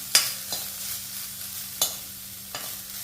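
Coconut is lightly sautéed in a pan for a white kurma, a soft close sizzle broken by four sharp spatula scrapes and taps.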